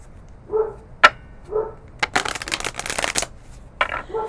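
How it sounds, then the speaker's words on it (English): A dog barks nearby a few times in short, separate yips, followed by a burst of rustling, shuffling noise, then more barking. "As I said, the dog is going off."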